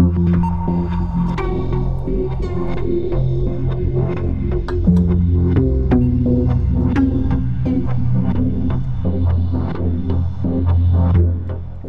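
A thick synth tone built from three parallel-processed layers playing a sustained melodic line with pulsing movement, loud and upfront, no voices.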